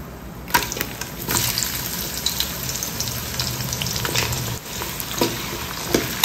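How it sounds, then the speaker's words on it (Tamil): Two medium onions, sliced and frying in hot oil with spices in a pan for coconut milk rice, sizzle steadily and close up. Repeated scraping stirs break up the hiss, and there is no talking. "வெங்காயத்தை நல்லா இதில் வதக்கிப்போம்."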